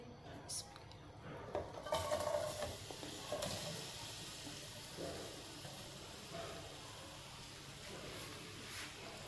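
Chopped onion hits hot oil in a pan and is stirred, making a fairly quiet sizzle with a few clinks and scrapes, loudest early on, while someone talks over it.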